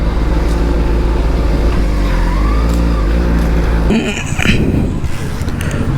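A Benelli 600i motorcycle engine revs hard at full power, a loud sustained drone that cuts off abruptly, leaving rougher mechanical rumble and faint voices.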